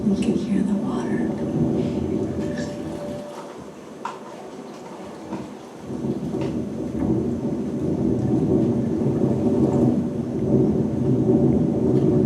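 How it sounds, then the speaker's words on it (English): Steady rushing water with a low rumbling undertone, continuous and fairly close, like rain pouring over moving water. "You can hear the water."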